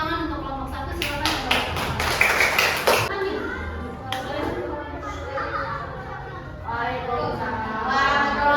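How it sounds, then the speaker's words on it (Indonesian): Brief scattered classroom clapping for a student group, a few seconds of claps amid children's chatter and voices, with talk continuing afterward. "tepuk tangan untuk kelompok 1"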